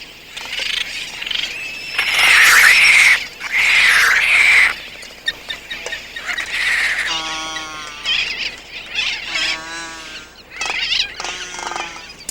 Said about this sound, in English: Frigate birds, the tyrants of seabird colonies, live by pirating food from their less aggressive neighbors.